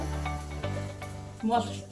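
Mustard and poppy seed paste hits hot oil in a pan with a steady close sizzle and a brief stirring scrape, heard alone without talk.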